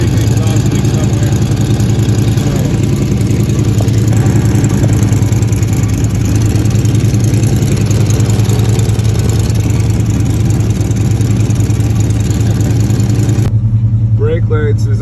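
A truck engine runs loudly and steadily with a big exhaust or air leak, a constant low rumble and hiss filling the clip, dropping away abruptly near the end.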